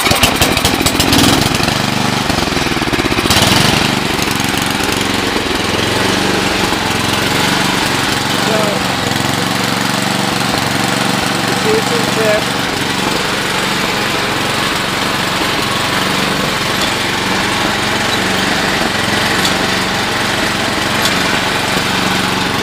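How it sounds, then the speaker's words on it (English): An 8HP 24-inch MTD snowblower engine runs steadily and loudly close by, a continuous rough small-engine drone that holds throughout the clip. "let me give it see if she'll fire up."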